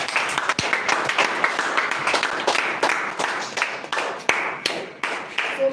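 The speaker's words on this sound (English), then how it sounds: "A round of applause for you." A seated audience at a self-confidence talk gives a round of applause, brisk dense clapping with sharp individual claps standing out, sustained and fairly close for several seconds.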